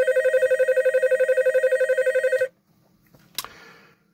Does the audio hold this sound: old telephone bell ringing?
yes